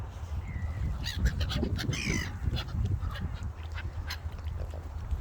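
Several ducks quack in short, scattered bursts, some loud and close, others fainter, over a steady outdoor background rumble in a town.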